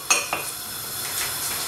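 Two small chopped shallots drop into a pan with two quick close clinks, followed by a soft, steady sizzle with no voices.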